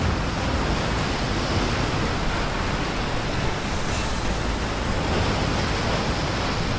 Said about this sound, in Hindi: समुद्र में ऊंची ऊंची लहरें उठने लगी और बिजली भी चमकने लगी